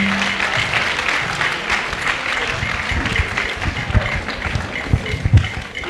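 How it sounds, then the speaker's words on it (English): Audience applause at a live political event in Ghana welcoming an honorable member of parliament onto the stage, a dense steady round of clapping from a crowd, with some voices mixed in. "With a resounding round of applause, let's welcome Honorable Okatakyie."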